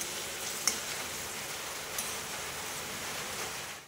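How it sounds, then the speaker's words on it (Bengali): Water added to a pan of hilsa fish curry bubbles at a steady boil, a dense, even hiss-like rumble that runs unbroken throughout, with a couple of faint clinks. "জলটা কিন্তু ফুটছে"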